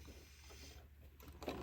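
A sewing machine stitches a dress up to the top of its slit for a Christmas dress, giving a faint, steady mechanical whir and light clatter for under two seconds with no voices.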